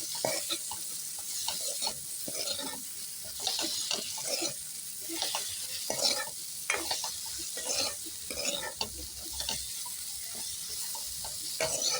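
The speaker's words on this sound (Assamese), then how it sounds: "ফ্ৰাই হোৱাৰ পিছত কাটি থোৱা পিঁয়াজ আৰু জলকীয়া, নেমুৰ আদা যিখিনি গোটেইখিনি ভালদৰে ফ্ৰাই কৰি লওঁ।" Onion, green chili and ginger stirred while frying in a pan: a soft continuous sizzle broken by repeated scraping stirs at an uneven rhythm, heard up close without talk.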